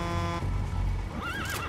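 D-Horse lets out a loud neigh in the video game Metal Gear Solid V: The Phantom Pain, a rising whinny that wavers in pitch near the end, with faint hoof clip-clops beneath it.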